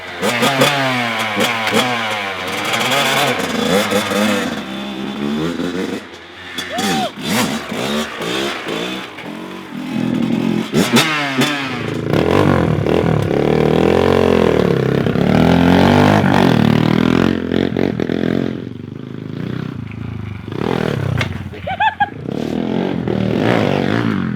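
Kawasaki KX100 dirt bike revving hard and riding, its two-stroke engine rising and falling through repeated throttle bursts, loud and close throughout with a brief dip in the middle.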